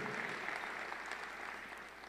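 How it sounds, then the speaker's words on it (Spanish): Steady applause from a church congregation during a sermon, a continuous patter of clapping holding at an even level for about two seconds. "Dale un aplauso y muchas gracias."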